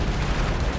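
Distant gunfire from a mountaintop in rugged terrain, heard as a dense, continuous burst of booming, echoing shots with no clear gaps, loud and unbroken across the brief moment.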